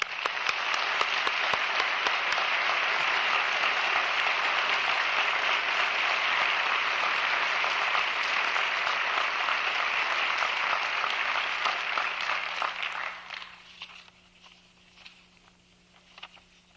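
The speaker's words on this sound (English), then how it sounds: "Now we can applaud." A large audience at a medical school convocation claps in sustained, dense applause for about thirteen seconds before it quickly dies away into a quiet room with a few scattered claps.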